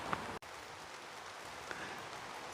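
Steady rain falls on a campsite during a storm while hammock camping, a dense even patter that stays constant and close, with a couple of brief louder taps and no voices.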